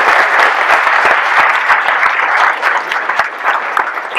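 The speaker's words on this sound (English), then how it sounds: "Let's give them a round of applause." Audience applause at a university event, a loud crowd clapping with sharp individual claps standing out, sustained throughout and easing slightly toward the end.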